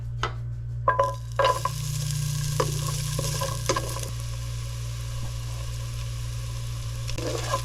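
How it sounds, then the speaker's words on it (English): Ginger dropped into hot oil on an electric single-burner stove: a few clinks and stirring scrapes at the start, then a steady close sizzle of frying with occasional utensil taps, over a constant low hum. "Now let's put the ginger."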